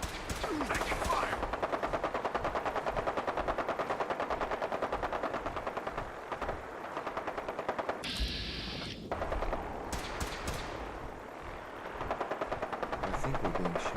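Sustained automatic gunfire in the video game Fallout 4, a dense, rapid rattling burst running for several seconds, then a pause with a hissing noise and further scattered shots, with brief voices over the fighting.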